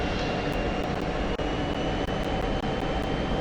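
In the DCS F-16 flight simulator, the engine roar from a large jet aircraft just ahead fills the cockpit as a steady, loud broadband whoosh with a faint tonal whine.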